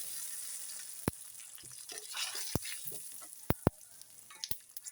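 Sesame seeds and raisins frying in ghee give a soft, steady sizzle with sharp crackles and pops scattered through, close and fairly quiet, with no talking.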